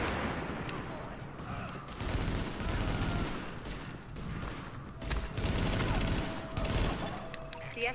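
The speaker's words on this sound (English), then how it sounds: "Escort party's taking heavy fire from the roof." Heavy gunfire rains down from a rooftop in The Division video game: dense, overlapping volleys of shots in loud rolling bursts that ease briefly and surge again, with voices faintly underneath.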